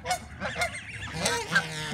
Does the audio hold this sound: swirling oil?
no